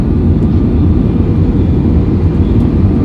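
Steady low roar of an airplane cabin on a flight from Bangalore to Andaman during the approach for landing, a constant, loud engine and airflow rumble with no talk.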